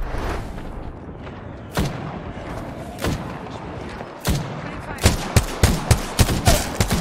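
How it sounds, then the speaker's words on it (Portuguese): Gunfire in an Apex Legends match: sharp single shots spaced apart at first, then a fast run of close, loud shots near the end, over steady game noise and a faint voice. "Cara, tá atirando muito rápido"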